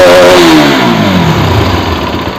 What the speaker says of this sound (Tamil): இன்ஜின் சவுண்ட்லாம் ஸ்மூத்தாக இருக்குது.